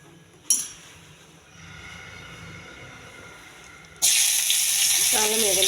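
Coriander and mint are rinsed at a kitchen sink: after a clink and a stretch of quiet background hum, tap water suddenly gushes loudly and steadily near the end.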